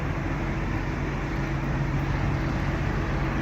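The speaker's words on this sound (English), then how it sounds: "Sorry for coming off loud, but that's this truck yard out here. It's just loud as fuck." Loud, steady background roar of a truck yard, a constant low rumble of engines and machinery with no breaks and no talk.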